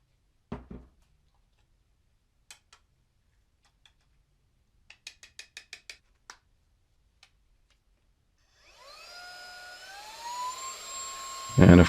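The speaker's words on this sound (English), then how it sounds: "And of course it blows away all that sawdust with no problem." Scattered light taps come first, then a 2-in-1 air blower spins up into a rising whine as it blows away sawdust, loud and close toward the end.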